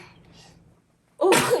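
A baby boy about five months old gives a single sharp sneeze near the end, loud and close, after a stretch of quiet background.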